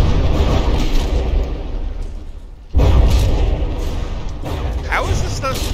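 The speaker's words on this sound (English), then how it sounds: "shells keep hitting in that area" Heavy shells strike and burst against a battleship in the From the Depths naval combat game, a dense run of loud booming impacts with a sharp jolt midway, under continuous rumble and talk.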